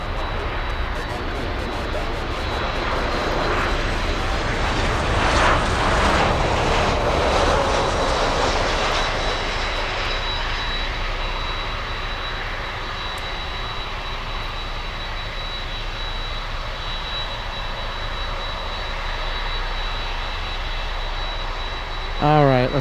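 Lufthansa flight LH462 airliner landing at Miami airport, its jet engines swelling into a broad roar that peaks and then settles into a long, steady distant rumble.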